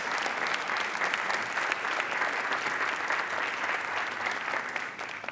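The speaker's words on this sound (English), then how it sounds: "Let's give him one more round of applause" A school board meeting audience claps in a full, sustained round of applause, loud and even throughout before easing slightly at the close.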